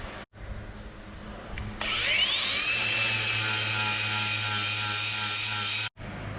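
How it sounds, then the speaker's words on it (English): A power grinder spins up and works the fibreglass surface of a hurricane-damaged catamaran, a loud steady whine that holds for several seconds before cutting off abruptly, close by with no talking. "I'm going to use a grinder just to get these surfaces off"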